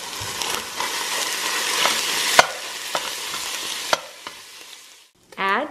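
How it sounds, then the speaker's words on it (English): Ground beef browns in a hot pan, a close, steady sizzle with scraping stirs and occasional sharp clacks of a utensil, fading near the end before a brief squeaky noise. "Step one, brown some ground beef."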